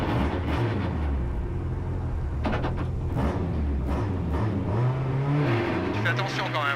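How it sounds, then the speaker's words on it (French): A rally car with a driver and a co-driver aboard, its engine roaring loudly from inside the cabin, revving up and down in rising and falling sweeps while people talk over it. "elle braille beaucoup la voiture là"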